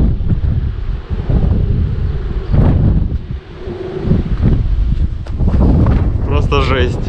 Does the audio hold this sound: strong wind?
yes